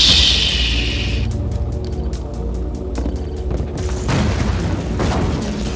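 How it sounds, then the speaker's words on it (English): Dreadnought warship launching big missiles in Command & Conquer: Red Alert 2, a loud rushing launch followed by a string of rapid clicks, thumps and distant booming impacts, with no voices. "I like the Dreadnought because it fires the big missiles"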